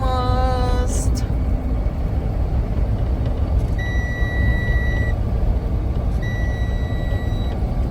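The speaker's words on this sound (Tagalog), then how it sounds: "Lagi na lang nag-beep, beep, beep, beep, beep." Reversing beeps from a truck in city traffic, sounding in two short series of repeated electronic tones over a loud, constant rumble of engines and road noise, with a brief honk near the start.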